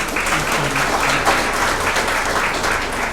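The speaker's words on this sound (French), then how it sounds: "Nous demandons à l'assistance de bien vouloir applaudir encore une fois maître." Sustained applause from a conference audience at an anniversary event of a law school, dense and steady clapping throughout with faint voices mixed in.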